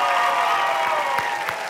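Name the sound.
audience applause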